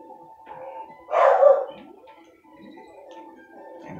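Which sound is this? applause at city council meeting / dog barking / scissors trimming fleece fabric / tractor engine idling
dog barking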